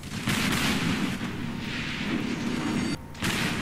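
An Atago cruiser in World of Warships fires HE shells in heavy, booming salvos that overlap into a dense rumble. A brief gap comes near the end before the firing picks up again.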